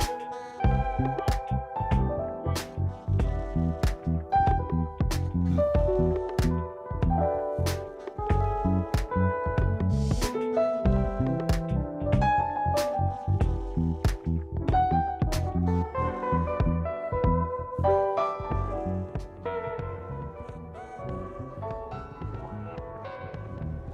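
Music with regular sharp percussive hits runs throughout, its tones smeared into a gritty, washed-out wash of echo and crunchy distortion.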